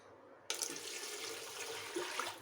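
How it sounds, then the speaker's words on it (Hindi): Water is poured into a pressure cooker holding potatoes and peas, starting abruptly as a steady, close splashing rush that continues for about two seconds. "अब इसमें डालेंगे पानी"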